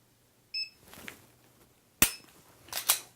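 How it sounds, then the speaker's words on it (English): Gunshots fired from the low ready position during handgun shooting practice: one sharp, loud report, then two more close together, with a beep and a quieter sound before them. "let's go ahead and shoot from low ready."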